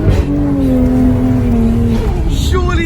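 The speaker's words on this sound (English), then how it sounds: "The exhaust I put on it sounded mean. I mean, it even sounded like a V8 in my opinion, even though it's a 6-cylinder." A 600 hp six-cylinder sports car engine with an aftermarket exhaust revs loudly and close, holding a steady drone before rising sharply near the end.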